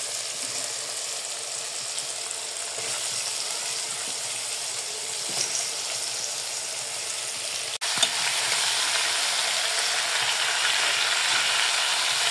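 Mango pieces dropped into spices frying in a pan for a sweet, sour and spicy pickle, giving a loud, steady sizzle with faint utensil clicks and a sharp surge partway through as the fruit goes in.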